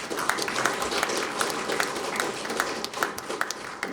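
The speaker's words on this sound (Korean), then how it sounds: "우리 모두 그 의원님께 큰 박수를 부탁드리겠습니다" Applause from an audience at a Buddhist academic conference honoring a lawmaker, with close, distinct individual claps standing out over a steady crowd clapping.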